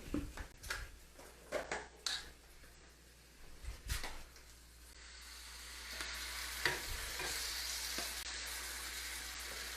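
Tomatoes tipped into a pan of sweated onions and chickpeas for eggs in purgatory, stirring clunks and scrapes up front giving way to a steady, loudening sizzle that fills the last half alone.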